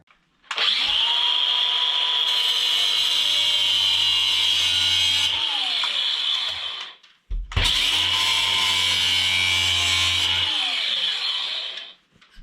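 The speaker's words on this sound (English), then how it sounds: "so I'm going around and grinding off all those nails" Two long, loud bursts from an angle grinder as it cuts off protruding nails on a roof frame, each a steady high whine that starts and winds down, with a short pause between them.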